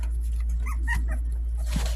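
A husky-like mother dog with puppies gives a short, soft whining vocalization, brief and close, with quiet room noise and a low hum.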